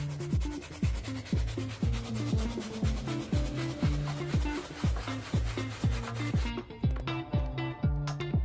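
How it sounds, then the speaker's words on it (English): A brush scrubs a rubber car floor mat with light agitation during interior cleaning with Turtle Wax ICE interior cleaner, giving steady, rhythmic back-and-forth scratchy strokes, close and fairly loud, that stop near the end. "we had to get a little brush, and we're gonna scrub it just a little light agitation"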